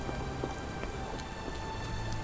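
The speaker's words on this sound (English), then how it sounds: "This dreary rain is making a miserable day even worse." Steady rain falls in a gloomy Victorian London game scene, a continuous close hiss with scattered droplet taps and no voices.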